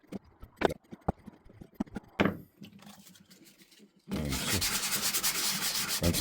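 Sandpaper rubbed over the top of a drilled copper piece for a wind chime, starting with scattered taps and scrapes, then a loud, continuous close-up rasping scrub.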